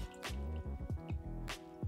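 Water drips and splashes from wet hands being rinsed over a bowl, a quick series of close, liquid plops and squishes heard alone.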